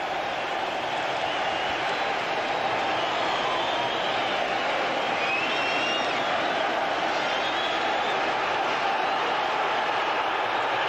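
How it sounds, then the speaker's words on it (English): A football crowd at Sunderland's home ground roars after a Sunderland goal against Barnsley in 1987, a dense, continuous wall of cheering that stays loud throughout. "And that's brought the crowd to life."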